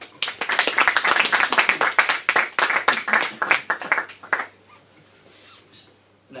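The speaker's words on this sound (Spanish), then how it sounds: "Así que un fuerte aplauso." An audience applauds after a speaker's introduction at a Spanish-language lecture, with dense clapping for about four seconds before it quickly thins out into quiet room tone.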